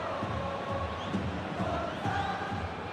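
Low, steady crowd murmur from a stadium in the Football Life 25 football video game, a diffuse wash of distant spectators with faint swells and no standout cheers.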